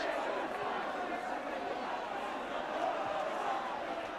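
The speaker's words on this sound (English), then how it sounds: "Shrewsbury being urged by their crowd to keep going forward" A dense football crowd at a 1984 First Division match roars and urges Shrewsbury forward in a steady, distant wash of noise, with a commentator talking over it.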